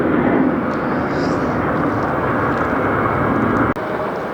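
A Delta Air Lines Boeing 717 jet at Detroit Metro airport gives a loud, close, continuous engine roar that holds steady for about four seconds, with a sharp click near the end.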